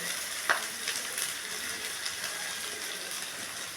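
Cumin, coriander and turmeric powder fry in a pan with green chilli and ginger, giving a steady close sizzle with light stirring scrapes and one sharp clink near the start.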